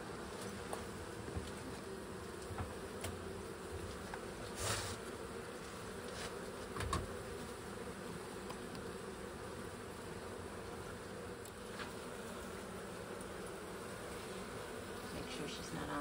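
Agitated honey bees swarm during a hive re-homing at a mill house, a dense continuous buzz of many insects filling the air with a few louder passes close by.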